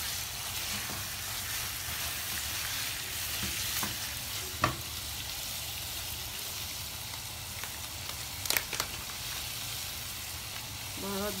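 Liver frying Alexandrian-style with nutmeg and pepper sizzles steadily in a pan, with scattered sharper crackles and a few scrapes of stirring throughout.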